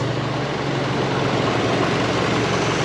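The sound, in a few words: turbocharged Mitsubishi Lancer Evolution engine idling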